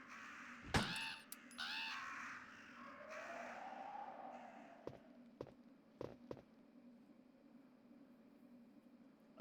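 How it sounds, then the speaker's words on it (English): Crow caws in the 1997 video game Resident Evil, a few loud harsh calls early on followed by scattered sharp clicks and taps over a low steady ambient hum. "He's been pecked to death by crows."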